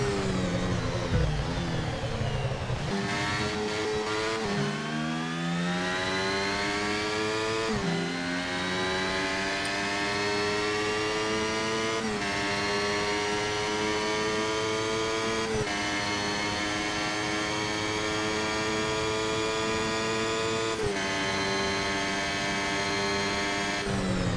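High-pitched F1 racing engine in the F1 Mobile Racing video game, a steady loud whine with rising harmonic sweeps as gears shift through a chicane and onto the start-finish straight, continuous with no talk.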